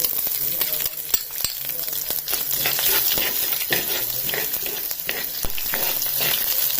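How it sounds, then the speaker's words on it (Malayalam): Chopped shallots hit hot oil for a Kerala-style moru curry, giving a loud, steady crackling sizzle close by, with scattered pops and occasional stirring scrapes. "ഇനി അടുത്തേക്ക് ചുവന്നുള്ളി ഇടുവാണ് അരിഞ്ഞ് വെച്ച ചുവന്നുള്ളി"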